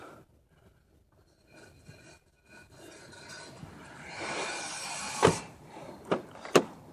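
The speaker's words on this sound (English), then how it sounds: "the boot pulls itself shut, so you don't really have to struggle in slamming this thing closed" The powered tailgate of an Infiniti FX35 3.5 V6 whirs softly as it closes on its own, ending in a few sharp latching clicks and thuds nearby.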